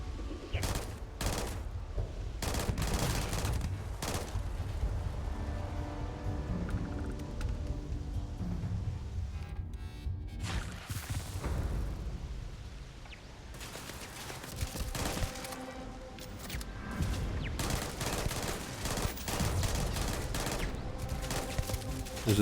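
Turrets in the video game Starfield fire bursts of rapid gunfire, dense fusillades and machine-gun rattles repeating across the whole stretch, loud and near, with brief lulls between volleys.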